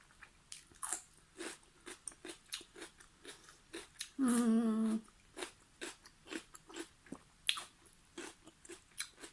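Raw red shallot eaten alongside fermented fish is bitten and chewed close to the mic, giving a run of crisp, rhythmic crunches with a brief louder burst midway. No one speaks.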